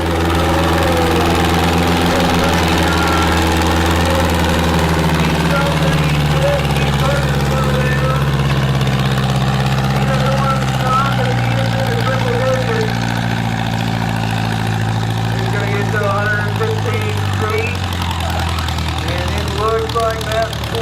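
Ford 900 and John Deere 420 tractors rumble in the starting blocks at a tractor pull, their deep engines droning steadily and loudly throughout, pitch shifting slightly, with voices faintly present over the roar.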